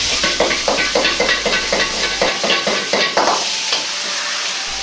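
Pork belly curry fried rice stir-fried in a wok tossed again and again, giving a steady run of close, rhythmic rattling sizzles with crisp frying hiss between the tosses.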